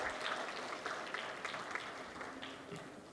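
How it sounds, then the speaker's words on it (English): Faint, distant applause for the dignitaries seated on the dais at a maritime conference session in the Andaman and Nicobar Islands, a soft, thin patter of clapping that stays low and even throughout. "Can we have a round of applause for all the dignitaries on the dais?"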